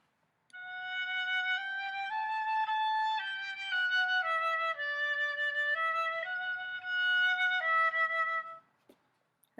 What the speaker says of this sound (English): Does anyone know what a flute sounds like?